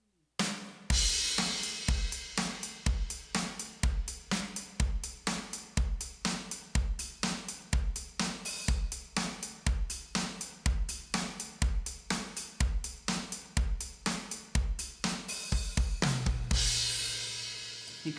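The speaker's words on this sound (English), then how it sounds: "if you accent the upbeats, just using the same notes though" A drum kit plays a steady beat with accented upbeats, using shoulder strokes on the accents and tip strokes on the unaccented notes. The strikes are crisp and evenly spaced, continuing with no talk for about eighteen seconds before ringing out.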